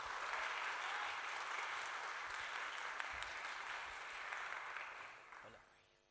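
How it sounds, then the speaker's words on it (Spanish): An audience applauds at a keynote speech, with dense clapping that holds steady for several seconds and then fades away. "Un aplauso."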